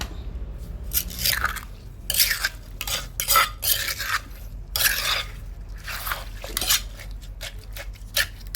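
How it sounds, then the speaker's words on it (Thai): A pestle pounds Thai som tam papaya salad in a mortar with a series of irregular, close, sharp knocks and scrapes, some quick pairs, some spaced out, with no talking. "แล้วเราก็จะตำต่อไปนะคะ"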